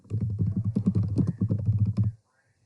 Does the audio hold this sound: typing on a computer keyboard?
yes